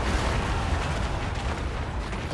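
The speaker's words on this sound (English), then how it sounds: "explosions!" Dense, continuous rumble of explosions and artillery blasts during a fantasy battle in Total War: Warhammer 2, a loud, steady wall of booms with no clear gaps.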